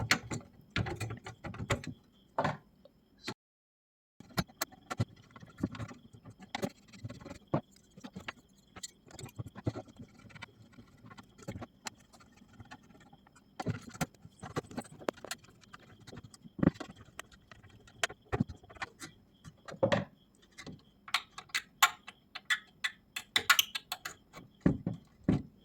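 Hands reassemble a CPU cooling system onto the processor, giving close, irregular mechanical clicks, ratcheting snaps and small metallic taps in scattered bursts, with a brief silent gap near the start and no talk.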